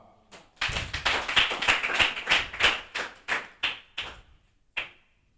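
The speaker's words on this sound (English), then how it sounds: "Can we clap for her?" A small audience at a training session gives a short round of clapping, individual claps distinct and uneven, building briefly then thinning to a few scattered final claps.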